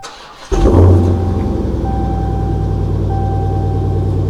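A Dodge Redeye's supercharged engine starts with a sudden loud rumble, then settles into a steady, deep idle close by as it warms up, with a faint whine running above the throb.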